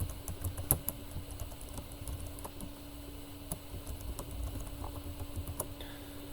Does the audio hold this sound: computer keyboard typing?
yes